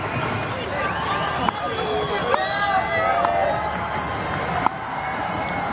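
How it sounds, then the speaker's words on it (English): Noisy cricket stadium crowd at a South Africa versus Sri Lanka one-day international, a steady roar of babble and cheering with occasional whistles and a few sharp shouts, loud and continuous throughout. "Noisy crowd now."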